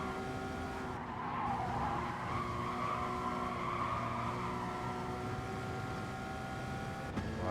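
A race car slides through a corner in the Gran Turismo racing game, engine droning steadily while the tires squeal and scrub in a sustained, wavering skid.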